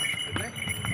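Horse hooves clip-clopping along the steep mountain trail from Gobind Ghat to Hemkunt Sahib, a few uneven steps heard close under voices and background chatter.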